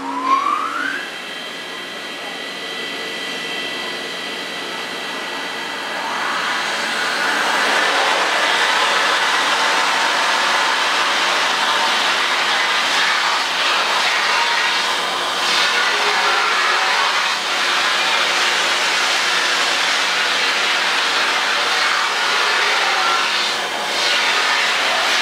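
A valve-division test machine at J-Tech is fired up, pushing high-pressure water through a small gear train. A thin rising whine opens, then a loud, steady broadband rushing hiss takes over and holds for the rest of the clip.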